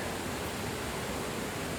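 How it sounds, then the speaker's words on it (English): A waterfall on the Abbott Run River below a reservoir gives a steady, dense rushing roar that fills the whole moment evenly, with no voices over it. "that's the waterfall"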